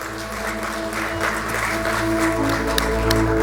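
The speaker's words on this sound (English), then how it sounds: "please join me in welcoming with a warm and thunderous round of applause, Mr. Nash Mithani." Conference audience applauding at an investing event, a warm, continuous clapping that builds slightly over three and a half seconds over a low steady hum from the hall.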